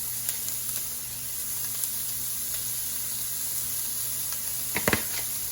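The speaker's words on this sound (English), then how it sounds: "I'm gonna just fry this until my onions are tender" Onions seasoned with salt fry in a pan, a constant close hissing sizzle with a few faint ticks and a short pair of louder clanks near the end, no voices.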